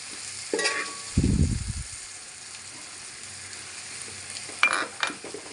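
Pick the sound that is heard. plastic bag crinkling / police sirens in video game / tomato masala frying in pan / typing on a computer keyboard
tomato masala frying in pan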